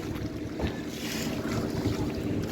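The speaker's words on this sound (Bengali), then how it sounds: "হ্যাঁ জলে প্রচণ্ড ঢেউ আর স্পিডবোট যখন পাশ দিয়ে যাচ্ছে তখন তো আরও বেশি ঢেউ" A boat moving over rough, choppy water on the reservoir at Maithon Dam, with a speedboat passing nearby. A steady, close wash of water and engine noise is buffeted by wind on the microphone throughout, with no voices.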